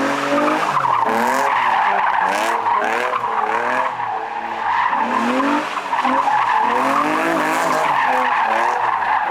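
A 2023 Nissan Z spinning donuts, its tires skidding and squealing in long continuous waves over a steady engine drone, loud and close throughout with a brief dip midway.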